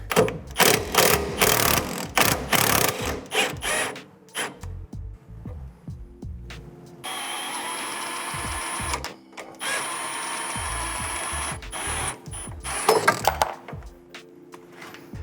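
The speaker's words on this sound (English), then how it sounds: "if you ever back out a bolt the way we are with the impact" An impact wrench backs a 14mm bolt out of the suspension knuckle on a 1990s Mazda NA Miata MX-5, giving two sustained, loud buzzing runs after an opening stretch of close clattering and knocking.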